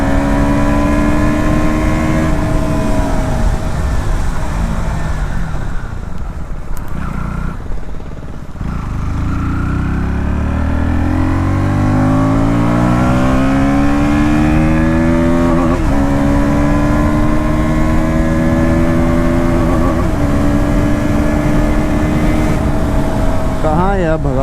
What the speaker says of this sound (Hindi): अगर आप ओवरटेकिंग कर रहे हो और आपने थ्रॉटल ऐसे घुमा दिया, थोड़ा सा लैग आपको पहले फील होगा, then it will pull after 6000 RPM